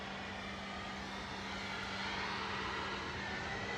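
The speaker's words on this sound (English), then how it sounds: "EasyJet to Bilbao, flight 2005." An EasyJet airliner, flight 2005 to Bilbao, at Manchester Airport gives off a faint, steady jet engine rumble with a constant low hum running under it. The sound swells slightly toward the end and no one speaks.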